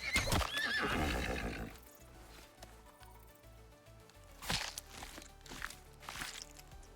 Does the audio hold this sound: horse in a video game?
yes